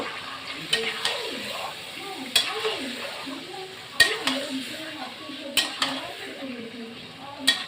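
Mutton pieces, about 1.5 kg, sizzle in a pan while being stirred, with sharp clinks of a utensil against the metal at intervals; a voice talks over the cooking throughout.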